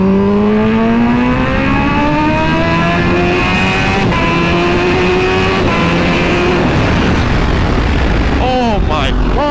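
A Kawasaki Ninja H2R motorcycle at full throttle, loud and close, its engine note climbing steadily through the gears with a few brief shift breaks and a sharp rising whine near the end.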